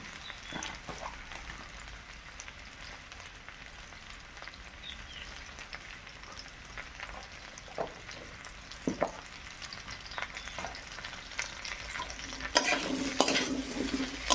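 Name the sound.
okra added to frying potatoes in pan, stirred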